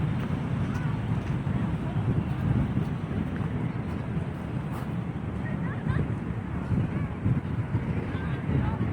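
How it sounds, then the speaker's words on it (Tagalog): Strong wind buffets the microphone at Dolomite Beach on Manila Baywalk in a constant, rushing roar, with a faint wash of surf underneath and no voices. "malakas ang hangin dito"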